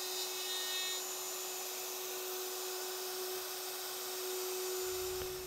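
A 1/4 inch router bit cutting wood for a clock makes a continuous high-pitched whine with a steady tone, fairly loud and unbroken throughout.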